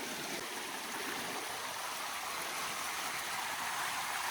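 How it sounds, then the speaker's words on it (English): Steady rushing of water flowing through a debris cage off a swamp, a continuous soft hiss and gurgle heard at a moderate distance with no voices. "we are moving a lot of water off of the swamp"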